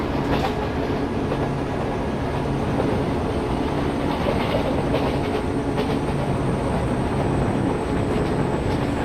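Wheels of the 17230 Sabari Express in Train Simulator rolling over track, a continuous dense rumble and clatter with faint rhythmic clicks, steady and fairly loud throughout.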